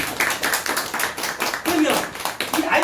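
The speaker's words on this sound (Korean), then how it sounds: "네, 박수." Brief round of group clapping from a seminar audience in a lecture setting, steady and fairly close, with some voices mixed in.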